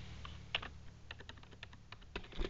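Quick clicking keystrokes on a wireless computer keyboard, typed in irregular bursts close to the microphone over a low background hum, with no talking.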